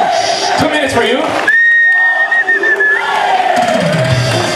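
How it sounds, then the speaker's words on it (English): A crowd cheers and whistles for rider Albert Kuncz at a Paderborn 2012 Pro division event, with shouts, a sustained whistle and a loud voice over the noisy mix. "And just an applause for Albert Kuncz."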